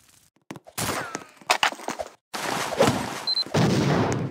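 Gunfire in a Roblox game, bursts of rapid shots in uneven clusters with brief pauses between, fairly loud and close, with no talk over them.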